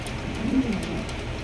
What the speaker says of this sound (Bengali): জ্যাকোবিন কবুতর